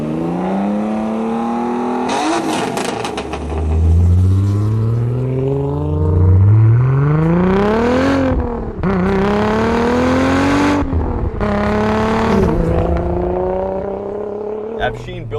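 A 550 HP Volkswagen Golf R32 drives and accelerates hard, its engine note climbing repeatedly through the gears with sharp rises and drops between shifts, loud and close throughout.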